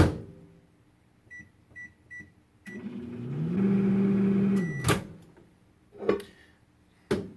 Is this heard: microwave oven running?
yes